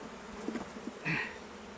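Honeybees buzzing around hives in a flowering apiary, a faint soft hum with one bee droning briefly closer and louder.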